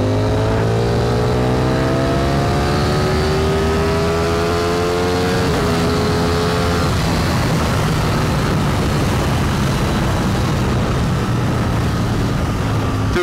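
A Ducati Streetfighter V4 motorcycle fitted with a black Termignoni exhaust roars loud and close while riding, its engine note climbing through rising revs in a steady, continuous pull.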